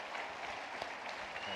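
Audience applause fills a college lecture hall ahead of a speech by Mike Pompeo at Hillsdale College, a steady, dense wash of clapping from many hands with no talk over it.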